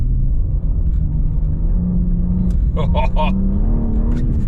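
A 510 hp rear-wheel-drive BMW accelerating on ice, its engine holding a steady low drone with a slow rising pitch, with a person talking over it.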